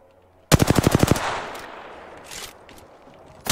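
Rapid burst of video game gunfire, roughly ten sharp shots in quick succession firing close and loud, followed by a decaying echo and a few scattered impacts.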